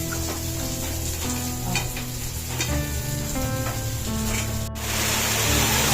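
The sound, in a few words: bitter gourd, potato and eggplant frying in oil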